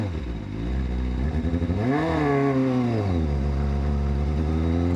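Honda CBR1000RR-R sport bike fitted with Brembo upgrades, engine revving up and dropping back with a noticeable hesitation: loud, steady close engine drone that climbs in pitch, holds, then falls and settles.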